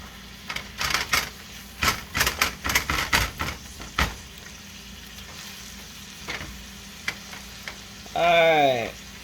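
Partly thawed ground meat for lasagna cooks in a pan, a run of loud clustered scraping and sizzling bursts followed by quieter sparse ones, ending with a brief squealing, whining sound.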